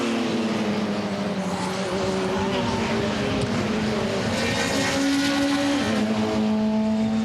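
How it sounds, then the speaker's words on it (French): Touring race cars at full race pace in a 2008 World Touring Car Championship round at Curitiba, including a Seat Leon turbo diesel, their engines droning steadily with rising and shifting pitch, close and loud throughout, with a commentator's voice faintly underneath. "au volant de sa Seat Leon turbo diesel face à Félix Portero."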